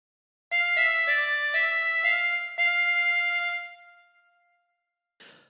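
A harmonica plays a phrase of the Star Spangled Banner: a few clear, sustained reedy notes in sequence, close and loud and alone, then a short breathy note after a pause.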